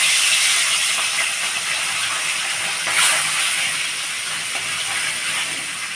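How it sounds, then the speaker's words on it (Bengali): Pomfret fish frying in mustard oil in a wok, a steady, loud broadband sizzle and hiss that holds throughout with a brief surge near the middle, no voices. "আমি দেখুন কড়াইতে সর্ষের তেল দিয়েছি। এবারে আমি মাছগুলো ছাড়বো।"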